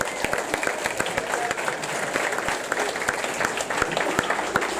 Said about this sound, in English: how about a round of applause for Miss Carol Wallace?